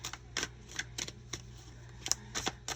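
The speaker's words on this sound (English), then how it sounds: "And I'm going to shuffle them up." A deck of angel number cards is shuffled by hand, giving a run of quick, dry riffling clicks and flutters at uneven intervals, close and fairly quiet, with no talking.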